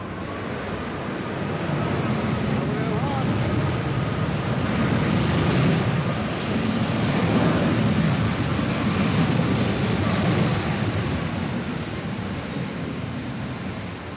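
Boeing 737 arriving from Denver landing at Nashville International Airport, a broad, distant jet roar swelling and fading, blended with wind noise and no talk.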